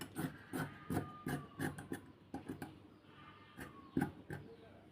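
Scissors cut fabric for a butterfly-style maxi dress in a series of short, crisp snips, each cut quick and dry, clustered irregularly over a few seconds.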